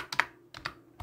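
Close, crisp keystrokes on a computer keyboard come in three quick clusters of taps, each a pair of sharp clicks, with brief gaps between and no talk.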